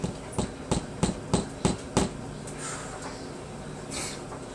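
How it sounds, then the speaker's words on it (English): A claw hammer taps six times in a quick, evenly spaced run, with each strike sharp and close. Then the blows stop and only a low room hum and faint shuffling remain. "no, that's a tap claw hammer."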